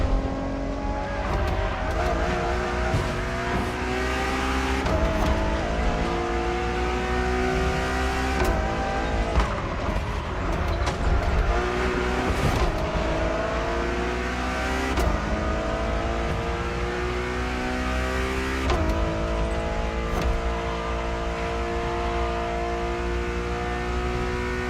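Ferrari road-legal Formula One car engine from a video game, a loud, sustained high-revving drone climbing through repeated gear shifts with brief dips, steady and close throughout with no talk.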